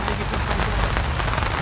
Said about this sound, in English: the pitter-patter of rain on the canvas